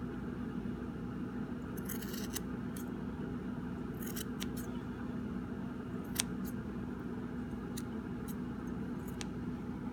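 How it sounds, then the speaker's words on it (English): Scissors snip through yarn a handful of times at uneven intervals, crisp little cuts over a steady low hum in a quiet room. "you're going to take a pair of scissors, and through the long pieces you're going to snip these open"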